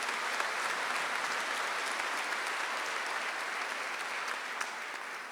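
Steady, sustained applause from a large audience at a high school graduation commencement ceremony, a dense continuous patter of clapping without speech, holding evenly for several seconds.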